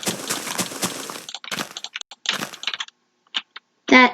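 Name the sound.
computer mouse clicking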